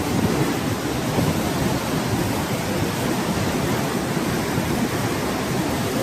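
Strong water rushes through the opened gates of a barrage on the Mahanadi river, a loud, dense, unbroken roar that holds steady without letup.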